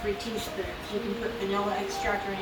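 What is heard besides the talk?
No everyday noise stands out behind the speech.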